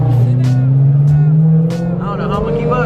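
Several Nissan GT-R cars cruising to a car meet on a hot day, loud engine drone shifting pitch as they pass close by, with a voice talking over the noise.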